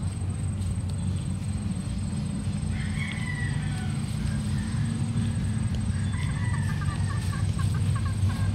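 Chickens clucking in backyard breeding pens during egg collection, a few short cackling calls rising over a steady rustling, humming farmyard background, fairly close and moderately loud.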